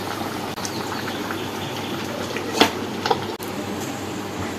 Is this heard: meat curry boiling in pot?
yes